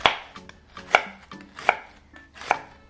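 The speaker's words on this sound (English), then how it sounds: "So cutting onion is like easy." A knife chops through an onion on a board for Lebanese tabouli: four crisp, evenly spaced cuts with small taps between them, close and clear, with no talking.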